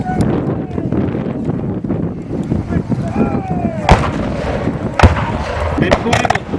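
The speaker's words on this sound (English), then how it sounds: "to your left, the Federal artillery starts" Federal cannon firing at a Civil War reenactment, two loud sharp booms standing out over constant wind rumble and a busy outdoor crowd.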